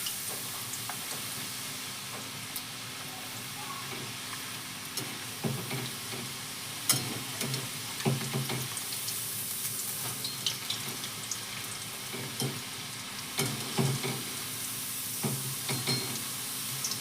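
Potato fries frying in oil over a low flame, giving a steady close sizzle with occasional soft stirring clinks and bubbling bursts, no voices.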